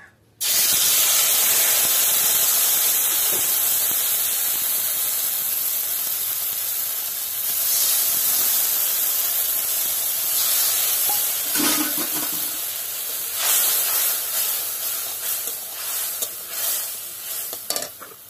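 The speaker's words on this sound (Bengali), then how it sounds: "এইটাকে আমি এই তিল বাটা, সর্ষে বাটাটা, কাঁচা লঙ্কা বাটাটা দিয়ে দিচ্ছি তেল" A ground paste of sesame, mustard and green chili hits hot oil in a karai and bursts into a loud, close, steady sizzle and hiss. It carries on for most of the stretch, then slowly softens toward the end.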